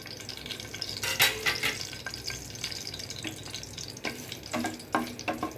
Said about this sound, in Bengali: এটা একটু হালকা ফোড়ন দিয়ে নিচ্ছি।